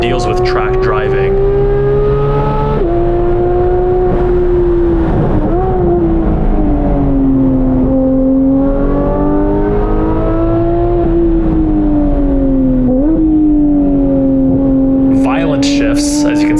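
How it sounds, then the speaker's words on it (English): A 2018 Porsche 911 GT3 (991.2) engine revs hard on a race track, its loud in-cabin howl climbing in pitch and dropping sharply at several quick upshifts, continuous and close throughout. "Violent shifts, as you can see, with the shaking of the camera on upshifts."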